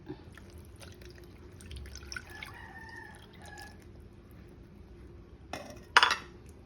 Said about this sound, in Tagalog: Lagay natin itong pangalawang gata